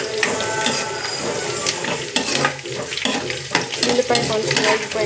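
Onion, green chili and cumin frying and sizzling in a pan for a Telugu okra curry, with loud stirring scrapes and clatter of a spoon against the pan, close and continuous.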